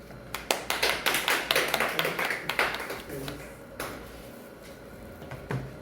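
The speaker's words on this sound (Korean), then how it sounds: "박수 부탁드릴게요" A small audience at a poetry reading applauds with distinct, closely spaced claps that build quickly, hold for a few seconds, then taper off to scattered claps and a quiet room.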